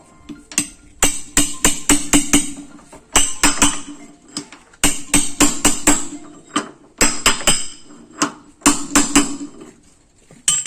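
Sharp metallic hammer strikes drive a pin while replacing an axle bushing on a walking tractor, ringing out in quick bursts of several blows, pausing briefly between groups, close and loud.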